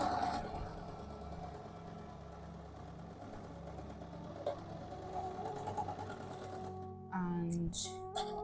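A sewing machine stitches an abaya in a continuous mechanical whir, fairly quiet and steady, with a brief change in tone near the end.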